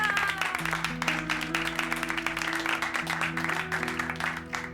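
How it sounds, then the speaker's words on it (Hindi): Applause from a small group at the close of a police-station scene in a Hindi TV comedy, steady dense clapping over a low musical drone that runs the full length. "तालियां।"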